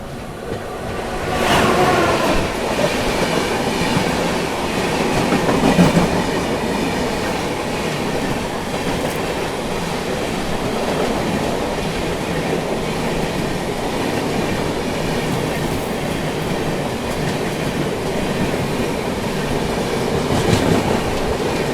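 The Bikaner–Sealdah AC Duronto Express passes close by with a steady, loud roar of rolling stock and rhythmic clickety-clack of wheels over rail joints, holding throughout with brief faint squeals.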